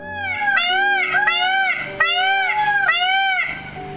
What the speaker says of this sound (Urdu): مور کی آواز